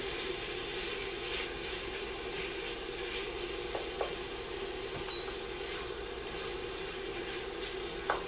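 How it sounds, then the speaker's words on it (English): Ground beef searing in a pan over medium-high heat, giving a constant loud sizzle with occasional stirring taps and small pops and no talking. "we're gonna turn it up to about medium high, and this is to get our ground beef nice and seared and crispy"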